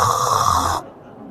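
A voice imitates snoring: one loud, rough, rasping inhaled snore held close up, then cut off sharply into near silence.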